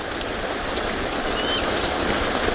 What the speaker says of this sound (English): the rain has become a little bit too much